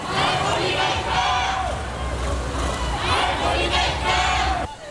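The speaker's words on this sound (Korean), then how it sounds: "전국의 청소년들이 세월호 진실 규명을 외치며 금남로로 모여듭니다." Teenagers gathered on Geumnam-ro in Gwangju shout slogans together outdoors, a loud crowd chant rising and falling in repeated bursts with a massed, echoing roar.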